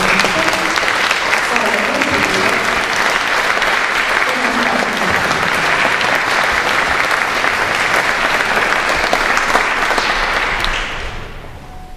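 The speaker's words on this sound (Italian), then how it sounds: "Le accogliamo con un applauso." A concert audience at a soprano and piano recital applauds loudly and continuously for several seconds before the clapping thins and fades near the end, with faint voices underneath.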